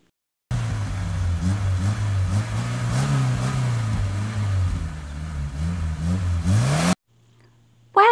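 Toy drag racer car engine revving, a loud, continuous mid-pitched roar that rises and falls for several seconds, then cuts off abruptly, followed by a brief fresh burst.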